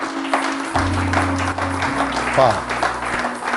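A church congregation applauds through a worship service, a steady wash of clapping beneath a loud preacher's voice and an exclamation, with a low sustained tone underneath.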